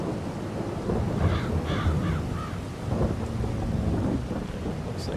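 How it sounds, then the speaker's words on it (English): In Farming Simulator 25, steady rain pours while low rolling thunder rumbles through a stormy outdoor scene, with a few faint bird caws mixed in and no voices. "hope it stops raining soon"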